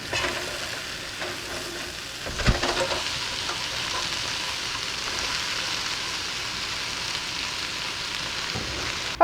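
Onions and peppers frying with potatoes in a hot pan, giving a steady, dense sizzle that holds throughout, close up, with a brief stirring clatter early on and no voices.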